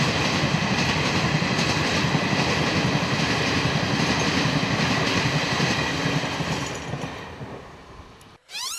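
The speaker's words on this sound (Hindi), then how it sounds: "रेलगाड़ी का दनादन भागत है रे" A train rushing past at speed, its dense rolling rumble and rail clatter loud and steady throughout, fading slightly near the end before a brief cut.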